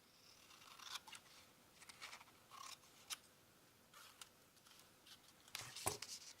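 Scissors cutting paper for a junk journal, a series of quiet, close snips and rustles in a soft irregular rhythm, with a sharper crisp cut near the end.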